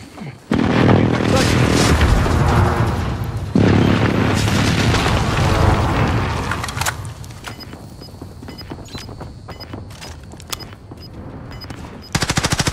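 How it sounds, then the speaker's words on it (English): Precision airstrike explosions in Call of Duty Warzone: sustained heavy booms and rolling blasts with rapid gunfire, loud and continuous, then crackling shots and a final burst; voices talk briefly underneath. "Enemy precision airstrike,"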